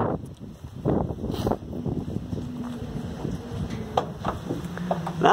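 Strong wind of over 50 mph buffets a small 400 W wind turbine outdoors, a loud continuous roar and rumble with gusting surges, microphone buffeting and faint whining tones throughout.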